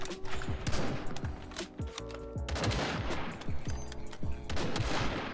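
Rapid, loud bursts of gunfire in the video game Sabotaj come in repeated volleys of close shots over several seconds, with no pause long enough to go quiet.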